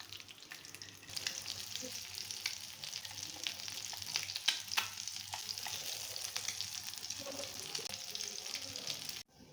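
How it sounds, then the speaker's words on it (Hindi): Snacks shallow-frying in a pan over a low flame give a soft, continuous crackling sizzle with occasional small pops and a light clink near the end, fairly quiet and without talk. "कितने अच्छे तरीके से ये फ्राई हो चुके हैं"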